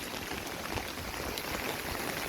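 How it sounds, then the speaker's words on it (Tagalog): Heavy rain falls as a constant, soft wash of hiss with no other sounds standing out. "Ay, lakas ng ulan."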